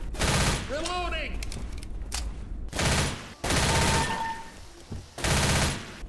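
Loud automatic gunfire in Left 4 Dead, several long rattling bursts broken by short gaps, with a voice heard between the bursts.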